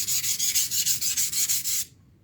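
A kitchen knife is ground on bench whetstones in quick, even back-and-forth rubbing strokes, about a dozen rasping passes close up, then the grinding stops abruptly.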